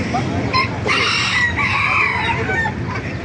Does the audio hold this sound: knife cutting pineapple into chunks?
no